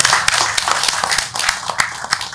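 An indoor audience at a community gathering gives warm applause of thanks, with many hands clapping steadily and a few sharper claps standing out, and no speech.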